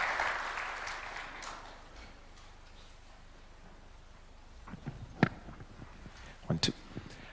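Applause rises from the audience right after a Kenyan presidential address to the nation by the President, loudest at the start and then fading out, with scattered thumps and a voice near the end.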